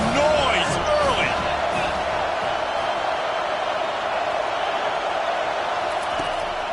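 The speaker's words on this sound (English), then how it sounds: "This crowd bringing the energy and noise early." Steady roar of a packed stadium crowd in a video game football broadcast, loud and continuous throughout with brief whistle-like cheers and commentary-style voices over the top early on.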